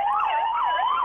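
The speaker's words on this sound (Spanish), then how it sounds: "están pasando por aquí ambulancias y todo" Ambulance siren wailing in a rising and falling sweep, loud and close, passing by on a street in Valladolid with no talk over it.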